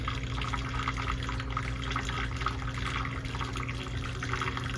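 Water filling the reservoir of a water-to-air intercooler on a Toyota MR2, a steady close rushing and trickling stream that continues without a break.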